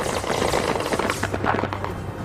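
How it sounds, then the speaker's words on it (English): Gunfire exchanged during fighting on a hillside in Homs, Syria, rapid overlapping bursts of shots in an irregular crackling rhythm, loud and continuous, with no talk. "After nearly an hour of exchanging fire like this"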